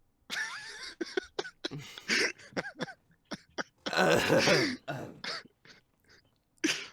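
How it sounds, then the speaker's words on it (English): During esports match commentary, a commentator with a sore throat coughs and clears his throat in several sharp bursts, scattered among spoken words, with a heavier fit of coughing near the middle. "Why are you coughing?"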